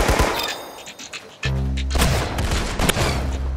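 Rapid bursts of gunfire in the Roblox shooter Arsenal, including a Tommy gun, crack out in a dense string of shots. A heavy low boom lands midway and the shooting carries on without a pause.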